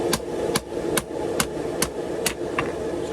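Hammer blows forging a karambit blade from ball bearing Damascus steel, seven evenly spaced ringing strikes about half a second apart over a loud roaring forge, close and without talk.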